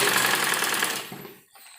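An electric sewing machine stitches a frock in a fast steady mechanical whir that runs about a second close by, then slows and stops, with no talking.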